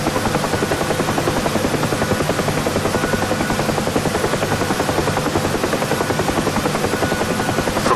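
A UH-1 Huey helicopter in the DCS combat flight simulator gives a loud, continuous rotor beat, a rapid, even chopping thump over a steady turbine whine, with no talk.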